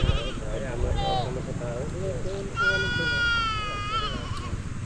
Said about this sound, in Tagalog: Yung mga kambing.